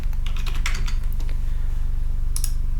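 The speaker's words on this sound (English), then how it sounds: "I know the value, so I'm just going to type it in." Steady, fast typing on a computer keyboard as a value is entered into software, close and fairly quiet, with a faint low hum underneath and no talking.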